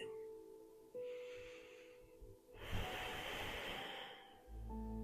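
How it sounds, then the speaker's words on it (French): Slow, deep breathing during a seated chair yoga session, with soft close inhales and a louder, longer exhale near the middle, set against a low steady background hum. "je vais prendre 3 belles grandes respirations"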